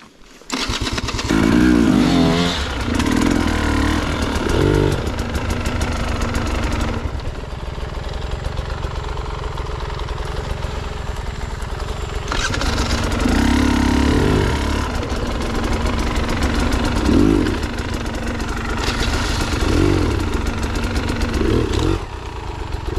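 Sherco SE 300 off-road motorcycle engine running close by, a loud continuous buzzing drone with repeated throttle blips rising and falling over about twenty seconds, heard alone without speech.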